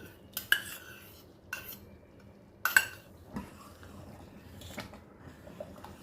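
A spoon stirs fresh cream into dal makhani in a metal pot, giving a few sharp, scattered clinks against the pot over soft scraping.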